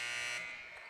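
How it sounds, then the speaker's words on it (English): A loud, harsh arena buzzer blares in a single short burst at a high school boys basketball game, fading slightly before it cuts off. "that buzzer is just going crazy, isn't it?"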